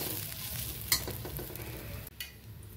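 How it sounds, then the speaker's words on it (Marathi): Dried coconut roasting in a pan for a Konkan-style masala paste, with a steady dry sizzle and stirring scrapes, one sharper clink of the spoon, close and with no talk. "ह्याला पण आपण सुकं खोबरं थोडंसं लालसर भाजलं की"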